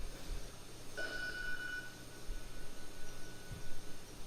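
A telephone rings once in a room during a business presentation, a single steady electronic tone lasting about a second over quiet room noise, with no talk over it.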